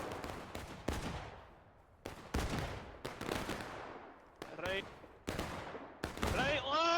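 Musket volleys crack out in a Manassas Campaign video game battle, several sharp shots at irregular intervals, some near and loud, others farther, each trailing off, with brief voice chatter between.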